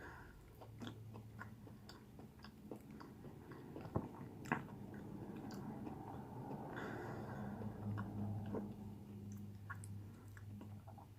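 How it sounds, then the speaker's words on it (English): Someone chews and eats a vegan meal up close, with steady soft mouth sounds, moist squishes and occasional sharper bites and crunches, quiet and continuous with no talking. "I was too hungry and I'm eating way too fast."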